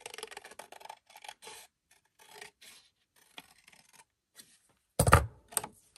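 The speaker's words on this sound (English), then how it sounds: "we're going to cut this top part completely out" Scissors cut scored paper for a handmade mini album in short, close snips and crisp paper rustles, irregular and spaced out, ending with a louder crunch of handling.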